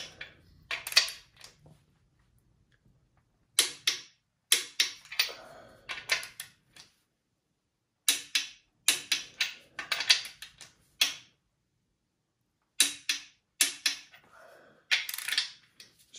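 Bolts being loosened on an engine during a rebuild, heard as close, sharp clicking and ratcheting bursts in short clusters separated by quiet pauses, with no talking.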